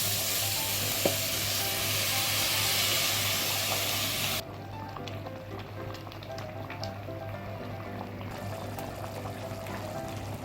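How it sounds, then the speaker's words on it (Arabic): Coriander, spices and black pepper fry in a pan over low heat for an okra and meat tagine, giving a steady, close, even sizzle that runs without a break and with no talking. "ننزل عليهم بكزبرة وبهارات وفلفل أسمر مدة دقيقتين على النار هادية"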